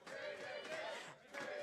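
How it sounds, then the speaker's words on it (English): University supporters of QUT chant together at a League of Legends grudge match against UQ, a sustained crowd roar with a rhythmic swell that dips briefly and then returns, heard from within an indoor esports venue. "As the crowd is starting to chant for that QUT."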